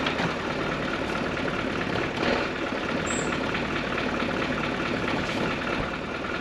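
A Land Rover Discovery with a fuel problem runs with the throttle held down, giving a steady, unbroken engine drone with a low rumble, close by and with no talk over it.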